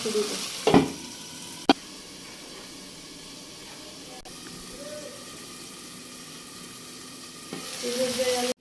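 Broiler chicken bhuna being stirred in a pan, with a steady low frying sizzle and occasional spatula scrapes and clatters, including a sharp knock near the start and louder activity toward the end.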